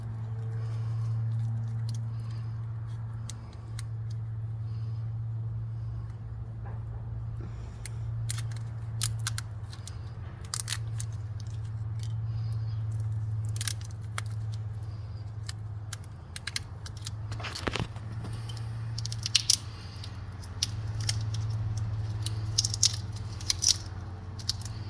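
A blade cuts through tape wrapped on a wire loom during an F150 heater and AC repair, giving quiet scattered snips and scraping clicks over a steady low hum, close up with no talking.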